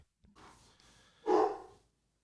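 A big dog barks a few times: two softer woofs, then one loud, close bark, with silence after.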